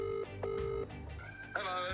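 A telephone call being placed gives off clear electronic tones: two repeated beeps, then a rising tone and a longer ring-like chord, all near and fairly loud against a faint room background.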